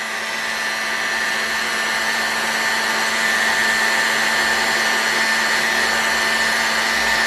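A heat gun blows continuously while warming the front end of an Enya SS35BB model engine, a steady close whooshing hum with a faint whine that holds nearly constant, swelling slightly midway.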